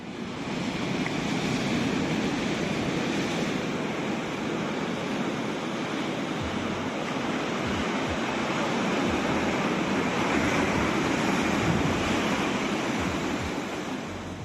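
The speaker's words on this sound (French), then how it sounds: "C'est marée haute, la mer efface complètement la plage." Ocean waves at high tide on the coast at Fisterra, a continuous broad wash of surf with steady rushing noise and some wind, no breaks between waves.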